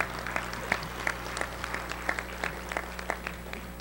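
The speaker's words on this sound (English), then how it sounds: "So if you would you please give them a round of applause." Audience applause at a National Hall of Fame induction ceremony, a moderately distant crowd clapping steadily with scattered sharper individual claps standing out over a low hum throughout.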